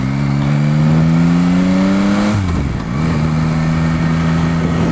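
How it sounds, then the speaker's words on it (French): A Ferrari drives past close by. Its engine hum climbs steadily, then drops sharply in pitch as it passes, and the drone continues loud and steady afterward. "Oh, une Ferrari."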